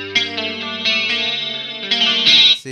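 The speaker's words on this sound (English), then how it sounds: "it's just a way more solid type of sounding chorus" Clean electric guitar chords shimmer through an MXR Analog Chorus pedal set to a slow rate, a few strummed chords ringing with a warm, wavering chorus before cutting off.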